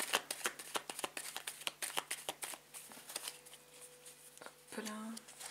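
A deck of tarot cards being cut and shuffled close up, with a rapid run of crisp riffling card flicks, then a brief pause and a final light shuffle, quiet and alone.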